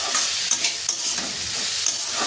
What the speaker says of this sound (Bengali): বন্ধুরা দেখো সবজির মধ্যে আমি একটু নুন দিয়ে দেবো, তাহলে সবজিটা তাড়াতাড়ি সেদ্ধও হয়ে যাবে আর ভাজা ভাজাও হয়ে যাবে